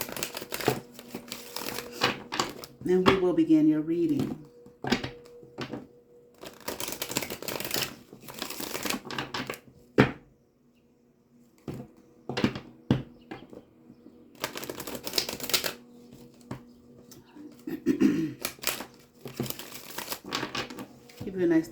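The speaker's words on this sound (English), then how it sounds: "Let me get you some good shuffles in." Rider-Waite tarot cards being shuffled by hand in repeated bursts of crisp flapping and riffling, alternating with a woman's speech and brief pauses.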